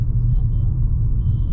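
A car drives along a road, with a steady low engine and road rumble heard from inside the vehicle.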